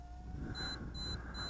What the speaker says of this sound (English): then you get an annoying beep for the remainder of the battery